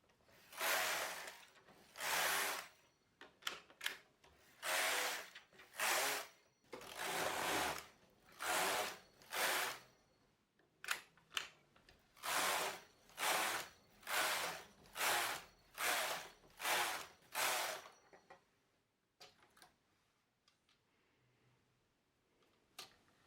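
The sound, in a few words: knitting machine carriage running during test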